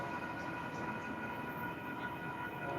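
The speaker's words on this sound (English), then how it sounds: "here comes the train" A train arrives in the distance as a faint, steady rumble with a faint hum, continuous and without talking.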